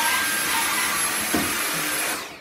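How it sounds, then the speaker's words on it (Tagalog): A household vacuum cleaner runs steadily and loudly in a home in Japan, a constant close whine and rush of suction that holds for about two seconds before winding down at the end. "Tuwang-tuwa siya sa vacuum"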